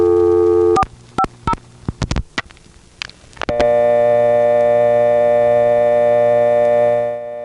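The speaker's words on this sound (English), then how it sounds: "would cause it to switch to an old-fashioned dial tone" A steady old-style telephone dial tone hums, breaks off for a burst of clicks and taps, then returns and holds unbroken until it fades.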